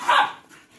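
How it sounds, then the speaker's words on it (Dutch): Patterdale terriers bark out once, a single loud, close bark that fades out quickly, with no talking over it. "Niet blaffen."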